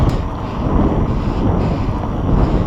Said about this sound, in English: it's like the wind shifted direction